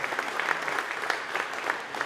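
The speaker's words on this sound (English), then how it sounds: "round of applause for her" Applause from diners at a labor council awards dinner, a brief, moderately loud spatter of many hands clapping in a room.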